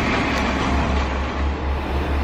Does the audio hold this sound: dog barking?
no